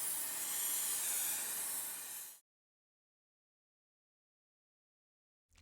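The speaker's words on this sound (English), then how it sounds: "I spray a couple of light coats of amber lacquer over the transfers to give them an aged look" Amber lacquer sprayed in light coats over the transfers on a Telecaster-style guitar body, a steady close hiss lasting about two seconds that cuts off abruptly into silence.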